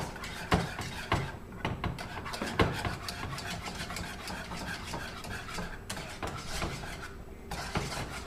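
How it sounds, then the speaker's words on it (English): Thickening spinach sauce is whisked over low heat to break up lumps, producing close, continuous scraping and rubbing with sharp metallic taps against the pan scattered throughout, with no talk. "Make sure you're whisking and try to get all the lumps out as you can."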